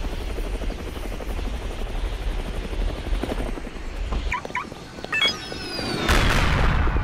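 A Buzzard attack helicopter in the Roblox game Mad City whirs steadily, then fires missiles that land as several booms and bursts, the last one loud near the end.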